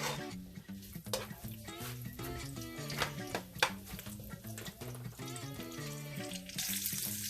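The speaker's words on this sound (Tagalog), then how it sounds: "we're gonna start sauteing po yung ating onions" Onions sautéing in about four tablespoons of regular oil in a pan, a steady sizzle running beneath melodic background music throughout.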